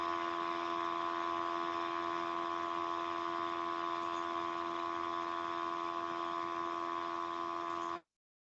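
A motorcycle engine picked up through a computer microphone makes a steady, droning buzz with a strong tonal hum that runs unchanged for about eight seconds and then cuts off abruptly, with no speech.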